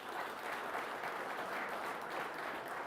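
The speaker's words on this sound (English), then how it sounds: "So if you could give these guys a round of applause." Audience applause at a high school conference fall sports awards ceremony, a continuous wash of clapping from a crowd, heard alone at moderate volume and holding steady without breaks.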